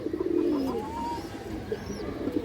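A male pigeon coos once in a low, close, throaty roll, with faint chirps from other birds scattered in the background.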